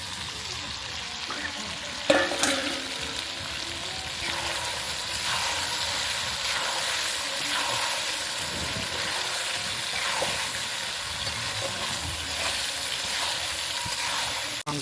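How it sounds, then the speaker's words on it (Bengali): Duck meat and fried potatoes sauté together for a village-style curry, giving a steady close sizzle with occasional stirring scrapes and one sharp knock early on. No one talks. "বন্ধুরা, আমাদের মাংসটা কষানো চলছে।"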